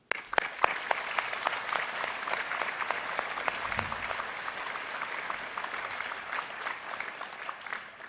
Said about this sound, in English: Please honour them with your applause.